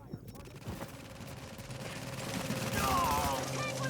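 Sniper gunfire in a video game: several sharp shots crack through a busy battle mix, with a louder burst near the end.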